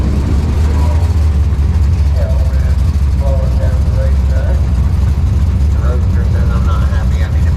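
A 1963 Chevrolet Nova drag car rumbles at a quarter-mile race track. The engine note is loud and steady, with a low, heavy idle throughout, and people talk near it.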